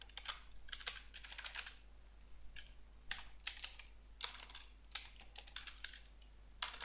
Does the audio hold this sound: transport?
no